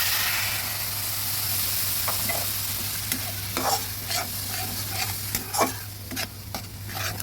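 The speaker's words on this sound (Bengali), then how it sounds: "মশলাটা এবার ভালোভাবে ভেজে নেব" Spice paste of cumin, coriander, chilli and turmeric powders soaked in water fries in a pan for a tengra fish curry, a soft steady sizzle with several clicking stirs near the end.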